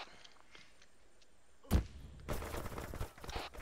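A war video game battle during a siege of Saigon, under fire from a Churchill tank: a sharp, heavy blast hits close by, and after a short pause a sustained burst of rapid gunfire rattles on loudly.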